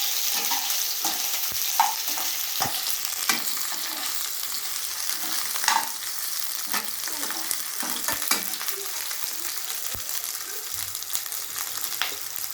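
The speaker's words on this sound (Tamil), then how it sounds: "நல்லா கோல்டன் ப்ரௌன் கலர் வர வரைக்கும் நல்லா ஃப்ரை பண்ணணும்." Onions frying in hot oil until golden brown give a steady, close crackling sizzle, punctuated by occasional stirring clicks, with no voices.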